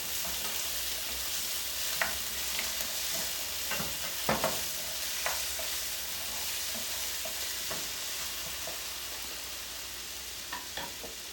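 Onions with a pinch of salt sizzle steadily in a pan, a soft continuous fry with scattered spoon scrapes and taps over it, close and moderately quiet with no talk.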